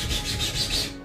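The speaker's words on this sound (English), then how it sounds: "just use a flat bit of sandpaper" Flat sandpaper rubs back and forth over the seams of a 3D printed sword guard, about five quick rasping strokes, close and fairly quiet with no talking.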